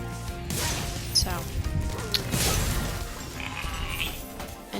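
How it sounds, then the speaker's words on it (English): A sheep on stilts in Spyro the Dragon bleats loudly amid crashes and thuds from the game, with a voice talking now and then over the noise. "Toasty is just a sheep on stilts"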